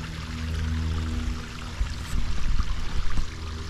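Small garden pond waterfalls run steadily, water splashing and trickling over stones close by, with a few louder splashes toward the end.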